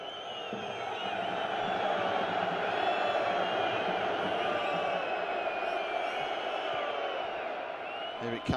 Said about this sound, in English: And the crowd really getting into this.